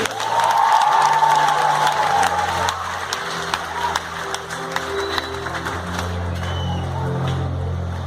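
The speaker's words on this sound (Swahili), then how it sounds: "Pigia Yesu makofi." Church congregation at a girls' school clapping and cheering in praise of Jesus, a loud crowd burst of applause and shouts that gradually thins out, with voices and music murmuring underneath.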